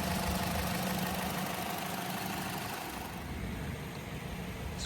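A 2018 Toyota Corolla iM's 4-cylinder engine with 105,000 miles idles smoothly as a steady, even, close hum, alone and without talk.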